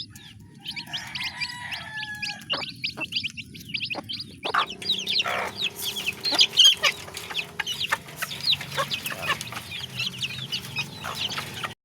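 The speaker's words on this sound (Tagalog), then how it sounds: "Yan po yung ating alagang sisiw na bagong pisa." Newly hatched chicks cheep in a busy, overlapping chorus of high peeps and chirps, close by and continuous, with soft clucks and a few brief handling noises mixed in.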